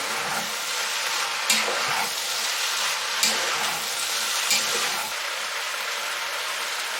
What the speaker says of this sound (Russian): При высокой температуре все обжаривается при помешивании периодическом.